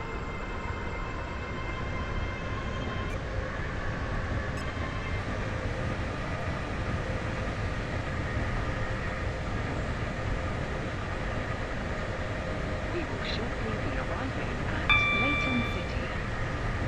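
Steady rumble of a Class 801 train in a video game running along the track, continuous and fairly loud, with a faint chime near the end.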